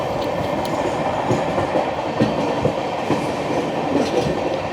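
Jan Shatabdi Express coach running on rails, a steady loud rumble of wheels with clickety-clack joints and rattling, heard from onboard with wind in hot weather, no voices.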